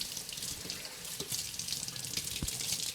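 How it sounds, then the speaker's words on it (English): Tap water runs steadily into a sink, rinsing leafy beet greens, a constant close hiss with faint splashing and patter as the leaves are moved under the stream. "we're going to make sure that we rinse this very well to make sure there's no dirt or debris on the leafy greens"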